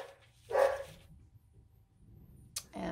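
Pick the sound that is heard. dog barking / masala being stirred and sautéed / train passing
dog barking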